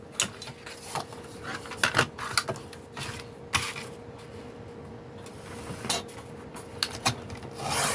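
Paper for a handmade photo mini album being cut, giving soft scratchy rasps broken by sharp little clicks, close and steady over a faint background hum.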